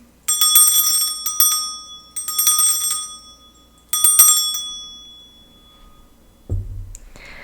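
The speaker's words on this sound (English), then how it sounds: "I'm going to start by clearing the energy with my bell" A hand bell rung to clear the energy before a tarot reading: three clear, bright strikes with a long ringing decay, followed by a brief low thud at the end.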